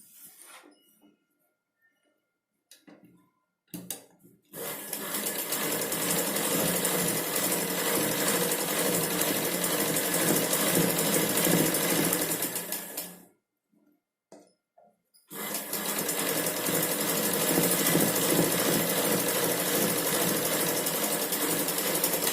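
Sewing machine stitching a blouse, with a loud, close, steady motor hum and needle clatter that runs for about eight seconds, stops briefly, then starts again, with light clicks in the quiet gap.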